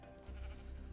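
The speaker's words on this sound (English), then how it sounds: "And that's another light gray sheep" A sheep in Minecraft lets out one short, faint bleat against a steady background hum, with no voices alongside it.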